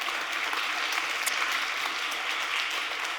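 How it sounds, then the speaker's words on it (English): Steady, dense audience applause at a startup founder talk, sustained and fairly loud throughout with no pauses. "Round of applause, guys."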